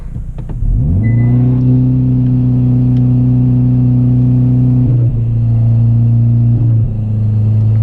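A Hyundai Veloster N engine is held at high, steady revs for a launch-control start, a loud, close drone with a brief dip and shift in pitch partway through, no talking.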